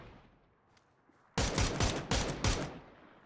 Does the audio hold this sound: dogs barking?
no